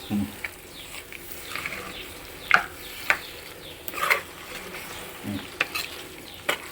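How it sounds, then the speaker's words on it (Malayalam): Goat liver curry coated in Kashmiri chili powder stirred in a sizzling pan, with several sharp scraping clacks of the spoon over a soft, continuous frying hiss. "നന്നായിട്ട് ഇളക്കി കൊടുക്കും. നന്നായിട്ട് ഇളക്കുക."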